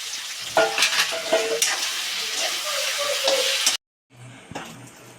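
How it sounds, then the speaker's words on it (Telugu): Ivy gourd chutney tempering fries in a pan with a loud, steady sizzle and scraping stir strokes, cutting out briefly before a quieter sizzle resumes. "ఇది వండి దొండకాయ పచ్చడి తాలింపు పెట్టేసానండి"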